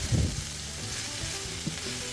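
Garlic and diced carrot sizzle steadily in a pan, a soft continuous frying hiss with a brief stir or scrape near the start and an occasional faint click.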